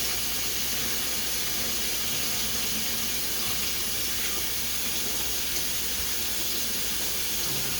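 A kitchen tap runs steadily as a spoon is rinsed beneath it, producing a constant close hiss of flowing water with no speech.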